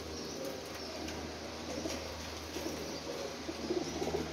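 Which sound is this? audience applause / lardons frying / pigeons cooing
pigeons cooing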